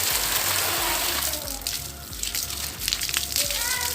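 Water is sprayed forcefully onto an air conditioner during cleaning, making a loud, hissing gush close by that dips briefly in the middle and then surges again.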